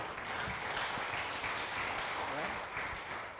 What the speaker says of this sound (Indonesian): Kita beri tepuk tangan dulu yang meriah buat beliau